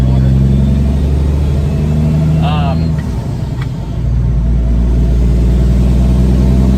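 An empty owner-operator semi truck with a 13-speed transmission drones steadily through its gears, a loud low engine rumble that dips briefly mid-shift and then resumes, with someone talking over it.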